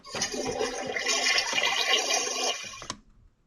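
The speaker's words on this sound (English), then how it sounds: "here's the toilet" A Barbie Dreamhouse toy toilet plays its electronic flush sound effect, a rushing, swirling water noise lasting about three seconds before cutting off, with no talk over it.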